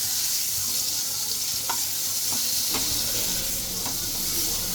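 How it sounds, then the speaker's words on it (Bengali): Brinjal (eggplant) slices fry in oil in a pan, giving a steady, hissy sizzle with a few faint clicks and taps. "ডিমটার পর আমি বেগুনটাও ভেজে নিচ্ছি।"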